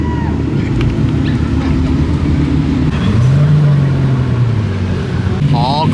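A Pagani Huayra sports car pulls up during classic car week, its engine a steady low drone under wind noise and nearby talk, with a rising tone partway through.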